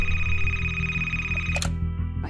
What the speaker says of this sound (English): Nancy gets this astounding phone call.